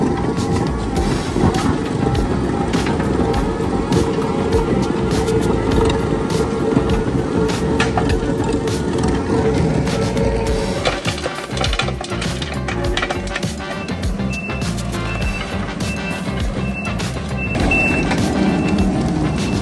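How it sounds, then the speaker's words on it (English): A skid-steer with an attachment grinding and levelling a bumpy gravel road: loud continuous engine and crunching gravel noise, with a reversing beep sounding toward the end. "So this is how you repair gravel roads. Just go over everything, grind everything straight into the soil."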